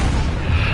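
A heavy boom from bombs exploding in War Thunder, a loud, low rumbling blast filling the whole short moment.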